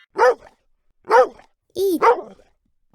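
A dog barks four times, sharp and close, in a loose irregular rhythm with short silences between the barks.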